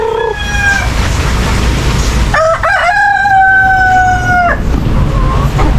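A rooster crows loudly and close by in a long drawn-out call, with a chicken's short clucks before it, over steady low background noise around a house yard.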